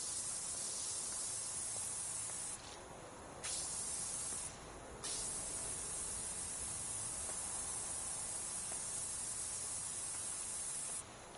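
A pressure washer sprays soap in PowerWash Simulator 2, a steady loud hissing spray that cuts out briefly twice and then runs on continuously. No voices.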